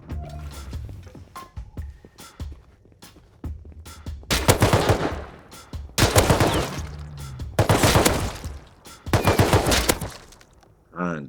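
Rust survival game gunfire, several loud bursts of rapid shots in clusters, with quieter sounds and faint voice activity between them.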